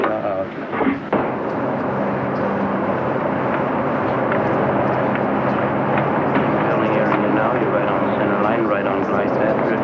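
A propeller airliner from the 1950 Berlin airlift era approaching a runway to land, a steady loud engine drone holding throughout, with a voice briefly heard near the start.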